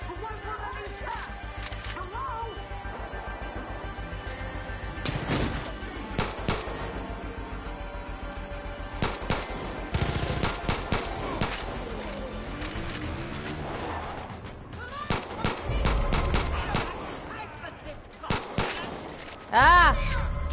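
Gunfire in Far Cry 5, at a marina in Hope County: bursts of rapid shots and single sharp cracks, near and loud, scattered over a steady game background.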